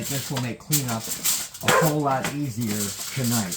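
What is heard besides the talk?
guard dog barking in the background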